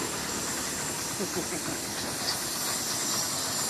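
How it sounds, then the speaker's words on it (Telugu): A goods train rolls past near Simhachalam with a loud, steady rushing rumble and hiss that holds evenly throughout, close by and without clear separate wheel clicks. "గూడ్స్ ట్రైన్ వెళ్తుంది."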